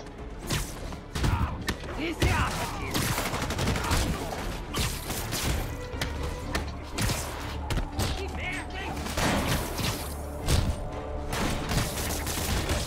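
Gunfire from armed thugs in Marvel's Spider-Man Remastered, a rapid mix of shots, thuds and impacts running throughout amid busy game action, with voices talking over it.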